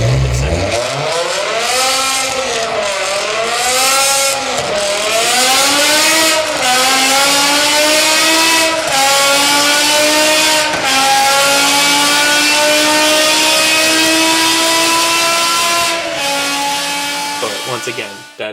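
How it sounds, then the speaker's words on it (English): A V10 engine in a BMW M3 GTR revs hard in Need for Speed Most Wanted, a loud, raspy straight-pipe roar that rises and falls through several quick blips before holding a steady high drone. "I would definitely put this V10 in it, just because it's a V10. It literally sounds like a Lamborghini straight pipe."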